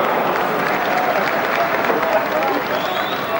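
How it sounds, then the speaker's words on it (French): An English football crowd at an Arsenal stadium applauds, a loud continuous wash of clapping and crowd noise, with a commentator talking over it. "Et le public anglais qui applaudit"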